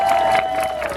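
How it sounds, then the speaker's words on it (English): Crowd at a fire department auto extrication demonstration applauding and cheering for firefighters, a steady wash of clapping and voices at moderate distance, with a sustained tone running underneath. "clap for these guys"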